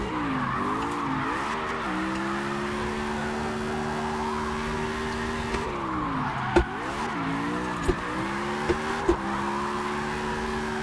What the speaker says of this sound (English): That was an unnecessary downshift, that's for sure.